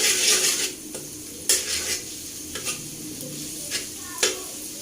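Sliced ginger sizzles in hot oil with onions in a pan while being stirred, a steady frying hiss broken by several sharp scrapes and clinks of a utensil against the pan.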